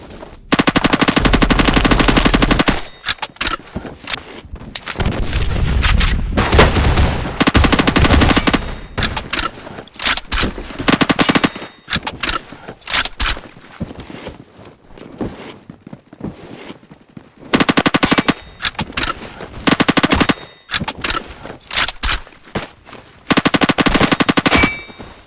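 Video game automatic gunfire from a weapon with a 300 Blackout conversion, loud sustained bursts broken by short pauses and scattered single shots over about twenty-five seconds.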